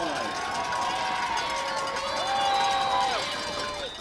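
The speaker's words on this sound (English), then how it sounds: "And the crowd making some noise." Crowd at a high school football game between McCracken County and Christian County roaring on a fourth down, a loud, steady wash of cheering and shouting that swells midway, with voices audible in the mix.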